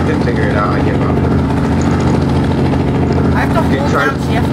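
Continuous loud helicopter engine drone in a game, a dense steady rumble that never lets up, with voices talking over it.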